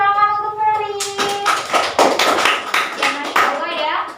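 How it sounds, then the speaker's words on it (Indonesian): A class of pupils claps for Ferry during an Aqidah Akhlak lesson, starting after a sung or spoken tone, a loose, uneven patter of hands that is near and moderately loud, with children's voices mixed in. "Beri tepuk tangan untuk Ferry"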